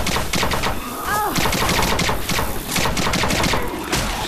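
Rapid gunfire in the zombie shooter Left 4 Dead 2 rattles continuously in dense, overlapping bursts, loud and close, with game effects mixed underneath.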